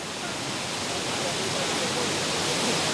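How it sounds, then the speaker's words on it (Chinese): A mountain waterfall dropping roughly 30 to 40 metres in a remote gorge gives off a steady, broad roar of falling water, loud and unbroken throughout. "我看这个瀑布落差差不多30公尺哦，30-40公尺高。"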